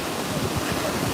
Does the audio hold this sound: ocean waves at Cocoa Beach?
yes